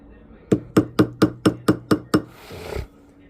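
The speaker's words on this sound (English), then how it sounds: "we're just tapping with our rubber mallet" A rubber mallet taps a metal ring being resized, eight even, crisp knocks in quick succession followed by a softer scraping shuffle, close and alone.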